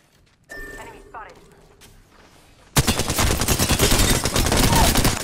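Loud, rapid gunfire bursts in a video game erupt suddenly after a few quiet seconds of soft beeps, then keep rattling densely to the end.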